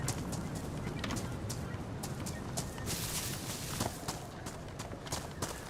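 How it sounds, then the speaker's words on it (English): Coastal ambience in the survival game DayZ, a steady wash of wind and surf with scattered short clicks and faint bird calls over it, continuous and fairly quiet. "the ambient sound of the coast. Seagulls and whatnot."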